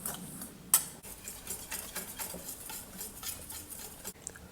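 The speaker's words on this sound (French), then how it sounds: "Et on va les mélanger rapidement." Icing sugar, flour, almond powder and hazelnut powder being stirred together in a bowl, a quiet scraping and tapping of utensil against the bowl with a sharp clink near the start, soft and continuous, no talk.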